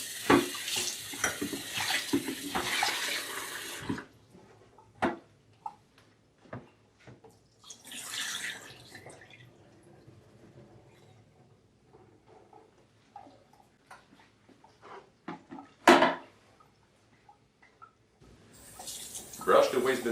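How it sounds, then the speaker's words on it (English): The liquid bin of a Necta Opera Touch coffee machine is rinsed under a hot tap. Running water splashes and gurgles in bursts, with plastic knocks and pauses in between, and the water surges again near the end. "Rinse the bin under hot water and wash it with soft soap if needed."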